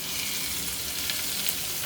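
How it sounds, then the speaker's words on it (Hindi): Beef liver fries with onions in a hot pan, giving a dense, steady sizzle that stays loud and even from start to finish, with faint stirring underneath. "अब हम इसमें कलेजी डाल देते हैं।"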